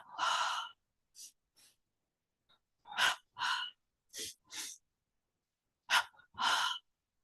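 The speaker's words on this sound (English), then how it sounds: "double breathing with palms touching" A person does a double breathing exercise with palms touching, taking sharp paired breaths: quick short inhales followed by strong, audible exhales, repeated in a steady rhythm with short silences between.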